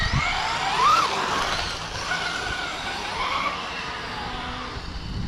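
A GTB race car makes its first run, tires squealing and skidding in rising and falling chirps over a steady engine drone, heard from a moderate distance.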